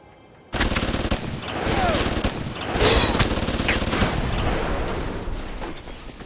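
Sustained automatic gunfire in the video game Alpha Protocol, dense rapid bursts that start abruptly and run loud and continuous to the end, with a brief dip between volleys.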